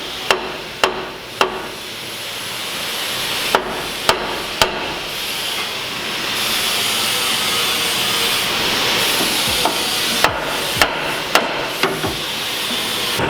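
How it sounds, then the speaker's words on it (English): A big hammer strikes a suspension part on a Ford E-Series van during a lift kit install, delivering about a dozen loud metallic clangs in irregular clusters over a steady background hum. "we'll just take a big hammer,"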